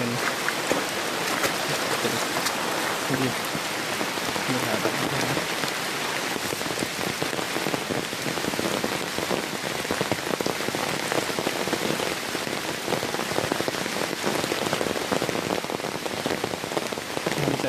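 Heavy rain pours down steadily and close, drumming on surfaces in a dense, continuous patter with no voices heard.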